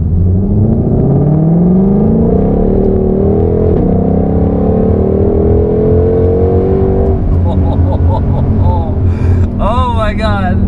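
A 760 HP Ford Mustang Shelby GT500 accelerating hard from inside the cabin, loud engine drone climbing steadily in pitch over several seconds, then sharp shifts and a higher revving whine near the end.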